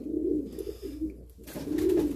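Pigeons coo in a loft in low, soft, rolling calls, two close bursts separated by a brief lull.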